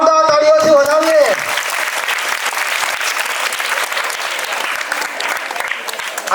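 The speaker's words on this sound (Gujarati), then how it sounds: "ચાલો જોરદાર તાળીઓથી વધાવીએ" A cultural program audience bursts into sustained clapping for a puppet show, starting just as a voice finishes speaking, then a dense, loud round of applause continues steadily to the end.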